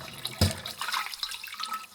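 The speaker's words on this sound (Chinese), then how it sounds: "要放点温水来清洗。 多过2遍水，把粘在肉面上的沫子清洗干净。" Warm water runs and sloshes over pieces of beef brisket being rinsed in a kitchen, with a sharp splash near the start followed by steady trickling and dripping, close by with no talk.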